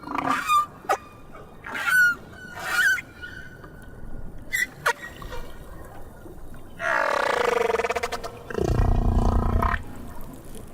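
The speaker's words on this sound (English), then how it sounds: "The song of other whales in the North Pacific is completely different." Humpback whale song from the North Pacific: a sequence of moans, whoops and honking calls, some short and repeated, ending in longer loud groaning phrases.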